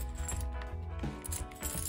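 Small coins jingle and clink as they drop into the catch tray of a compact munekawa Enfold Coin wallet, a cluster of close, bright metallic taps over a couple of seconds.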